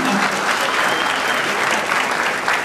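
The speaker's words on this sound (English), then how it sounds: "So I don't get an applause?" An audience at an airport industry day event claps in a steady burst of applause that lasts the whole moment, dense and fairly close.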